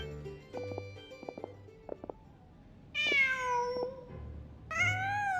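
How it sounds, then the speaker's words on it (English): A cat meows in the video game Genshin Impact, with two clear, drawn-out meows in the second half of the clip. They are preceded by softer, clipped vocal blips and sit over a quiet ambient background. "Just a cat."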